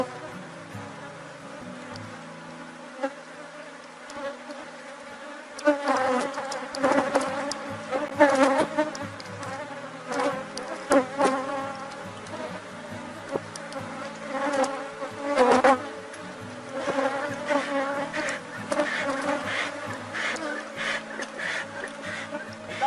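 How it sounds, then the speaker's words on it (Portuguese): Honey bees buzzing around an opened hive during a morning swarm division after rain, with many foragers about; a dense, steady insect drone fills the whole stretch, swelling louder from mid-clip with close passes of individual bees. "Isso acaba irritando também as abelhas"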